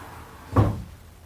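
A sliding barn door in a basement rolls shut against its doorstop with a single soft thud, a short low bump rising out of quiet room tone and fading quickly.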